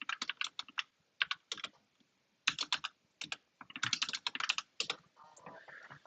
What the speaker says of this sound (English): after I finished typing out the romanization real quick